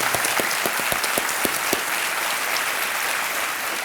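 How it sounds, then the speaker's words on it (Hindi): A studio audience on the Hindi quiz show Kaun Banega Crorepati, season 9, breaks into loud applause, a few sharp distinct claps up front merging into a steady crowd clapping wash. "तालियों के साथ आपका अभिनंदन करते हैं।"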